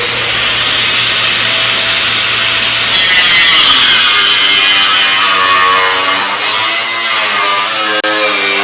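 A cutoff wheel grinds through metal on an army truck, a loud, close, continuous abrasive whine that changes pitch as the wheel bites deeper into the cut.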